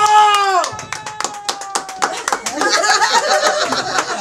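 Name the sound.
audience applause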